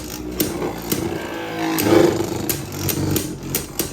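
Beyblade Burst spinning tops, including Wind Knight, clash and scrape in a battle stadium, giving a close, rough whirring scrape with sharp rhythmic clicks and knocks as they collide repeatedly.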